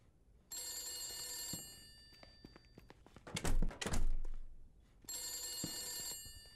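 In the horror game The Beast Inside, a telephone's bell ring opens the moment, then heavy thumps and footsteps land in the middle before the ring starts again near the end, with no talk.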